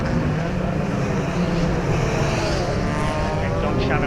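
Rallycross race cars roar around Mondello Park during a 2015 British Rallycross Championship round, a loud continuous engine blare with shifting pitch as cars pass, under a commentator's voice.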